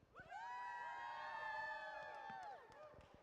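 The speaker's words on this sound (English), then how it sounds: "Give me a loud cheer for the El Rancho." A crowd at a VEX IQ middle school robotics championship cheers and whoops loudly, many young voices rising together in a sustained shouting burst that swells and then fades.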